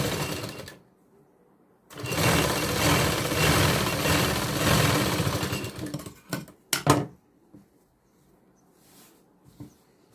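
A sewing machine stitches the upper side of a katori blouse in one long, steady run of about four seconds, close and loud, followed by a few short bursts and clicks.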